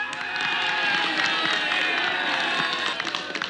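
A crowd of citizens cheers and shouts continuously and fairly loudly, a dense roar of voices with scattered claps rising and falling across the stretch.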